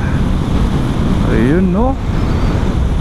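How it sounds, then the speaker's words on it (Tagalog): Strong wind rushes at a scenic viewpoint in Ilocos Sur as a loud, constant roar, while a voice briefly speaks over it. "Ang lakas ng hangin."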